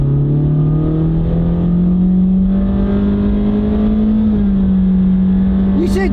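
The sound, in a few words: Honda car with CVT transmission accelerating at high RPM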